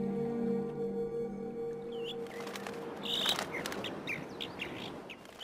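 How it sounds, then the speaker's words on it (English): Varied bird chirps and whistled call notes from a Galápagos mockingbird ring out over a steady outdoor hum, with a burst of brighter calls in the middle and scattered notes toward the end. "The island's mockingbirds also caught Darwin's attention."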